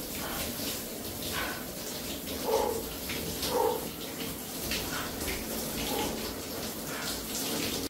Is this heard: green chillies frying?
no